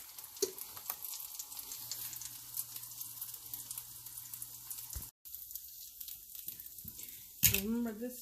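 Jerk-marinated shrimp hit a hot pan for street tacos, giving a steady, faint sizzle and crackle throughout, briefly cut off near the end before a louder burst of sizzling and clatter with a voice speaking.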